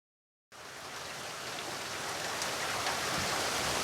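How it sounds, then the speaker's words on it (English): Heavy rain cuts in abruptly after a moment of silence and keeps building into a dense, steady downpour hiss, close and loud, with no voices. "the deluge of rain slowed to a light drizzle"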